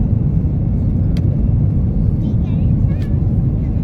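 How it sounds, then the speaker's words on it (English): Airplane rolling down the runway on takeoff, a loud, steady cabin rumble of engines and wheels heard from inside, with faint voices beneath. "It's the sound of the runway you can hear."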